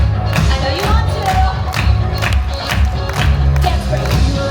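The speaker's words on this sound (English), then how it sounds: "All right, everyone. Clap it out." An audience claps and cheers at the Mission Blast Off show in LEGOLAND California's Galaxy Land, loud rhythmic clapping with whoops over upbeat background music.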